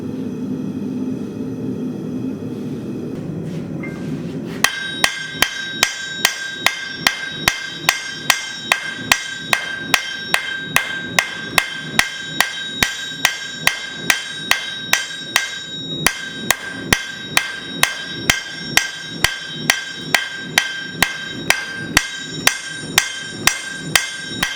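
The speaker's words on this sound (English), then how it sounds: "hammer it some more and get it nice and smooth" Kitchen knife steel is forged with a hammer on an anvil, struck in a steady, rapid series of loud metallic blows with a bright ringing tone, after a few seconds of low workshop rumble.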